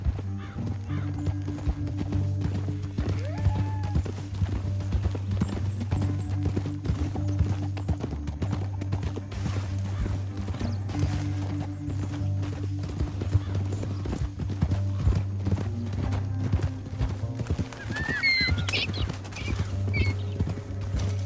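Steady horse hooves clip-clop in a continuous rhythm over a low rumbling drone, with a brief whinny near the end, in the video game Red Dead Redemption 2.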